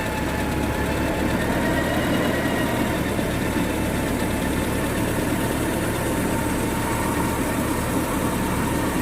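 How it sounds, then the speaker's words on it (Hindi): A truck engine idles without revving while the cab is tilted forward, giving a steady, loud, close rumble with an even mechanical clatter and no change in speed throughout. "ये है विदाउट रेस के, तब भी उतना तेज चल रहा है इंजन"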